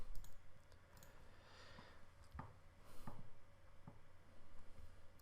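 Faint, quiet keystrokes on a computer keyboard come in an irregular scatter of light clicks, with a few sharper taps standing out against a soft background.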